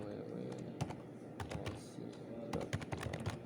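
Rapid clicking keystrokes on a computer keyboard, irregular bursts of taps close by, with a voice talking over them.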